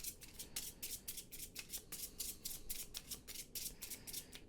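A deck of cards for the Too Many Bones board game is shuffled close up, a rapid run of crisp riffling flicks repeating in quick bursts, with no talk.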